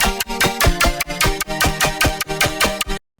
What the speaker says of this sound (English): it's a really simple stabby serum patch